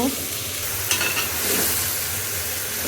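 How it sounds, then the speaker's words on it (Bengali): Spice paste sautés in a pan before coconut milk goes in, a close continuous sizzle with stirring scrapes and brief bubbling spurts, no voices. "মশলাটা কষানো হচ্ছে এখন"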